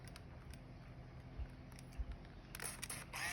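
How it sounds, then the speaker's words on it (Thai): Shutter of a Minolta Capios 75 compact film camera firing, a few faint, quiet mechanical clicks and a brief rustle of handling, no talk. "อย่าลืมนะคะก็กดชัตเตอร์ลงครึ่งนึง ก่อนให้กล้องจับโฟกัสแล้วค่อยกดถ่ายนะคะ"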